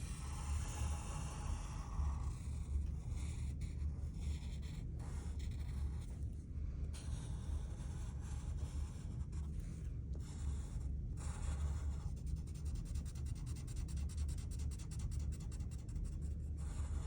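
Pen drawing an outline on paper for a pop art fish picture, a soft continuous scratching and rubbing of the tip across the sheet with brief pauses, close and quiet over a low steady hum.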